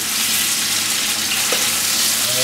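Diced chuck tossed in seasoned flour sears in a Firex CBTE030 electric tilting kettle, producing a loud, dense, continuous sizzle up close with a faint knock near the middle, and no talking.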